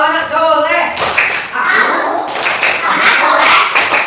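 Children in a classroom clap the 'tepuk anak soleh' clap rhythm, with loud, close bursts of clapping in quick patterned groups, mixed with children's voices chanting along.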